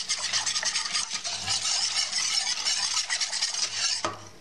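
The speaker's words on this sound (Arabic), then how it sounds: "وغادي نحرك" Cream being stirred into a pot of ingredients while preparing a special-occasion Moroccan dessert, a steady scraping, swishing churn that runs continuously and fairly close for several seconds, with no voices.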